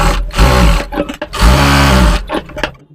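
Sewing machine stitching a six-year-old's double-layer gathered kids' frock, the motor running in three loud bursts separated by brief pauses as the fabric is repositioned.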